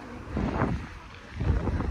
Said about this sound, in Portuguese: Tá uma ventania louca hoje.